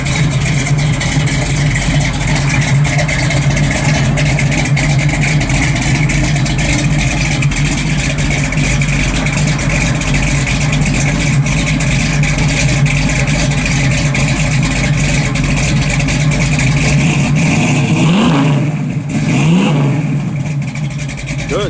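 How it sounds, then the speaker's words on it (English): A 1969 Chevrolet Camaro RS/SS V8 with a full exhaust exiting out the back, idling loud and close with a deep, lumpy rumble, then revving up twice near the end. "Nice full mass exhaust all the way out the back"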